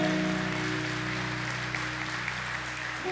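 A church congregation applauds during a service, a steady wash of clapping set against a sustained low musical hum from the sanctuary.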